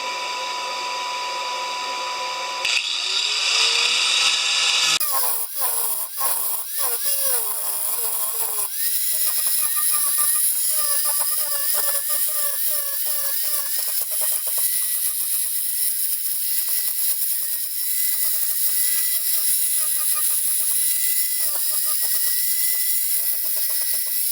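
An angle grinder shapes a railroad spike into a skull hook, giving a loud, continuous high whine that shifts in pitch as the disc bites into the steel.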